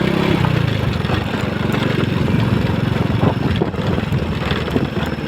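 A motorcycle engine idles and revs nearby with a loud, pulsing low rumble that is steady at first and eases slightly toward the end.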